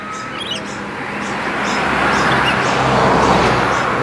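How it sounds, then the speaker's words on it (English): Parrots at a bird sanctuary give repeated short calls and chirps over a loud, dense background of ambient noise, with several birds calling at different distances. "they're parrots, and you get parrots in Africa as well, of course."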